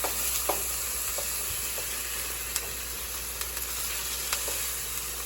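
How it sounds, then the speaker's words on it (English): Salmon fillets sautéing in a hot pan for a Tuscan butter salmon dish, browning on both sides, give a steady close, even sizzle and hiss with a few small pops and no talking. "we're just going to keep sauteing it until it's done"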